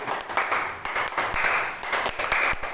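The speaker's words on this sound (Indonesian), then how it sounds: "kita main tepuk tangan saja untuk memberikan semangat" A group of women stand and clap together in unison at a stunting-prevention outreach session, a loud, rhythmic run of claps with brief bursts of stronger strokes.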